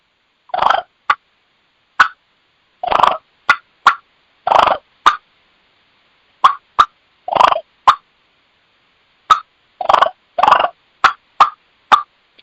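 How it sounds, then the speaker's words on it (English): Eastern and Osceola wild turkey hens give deep, bassy clucks, short sharp notes that come singly and in quick clusters with clear pauses between, close and distinct against silence. "You're going to hear the bassier cluck, and this again is going to be Easterns and Osceolas."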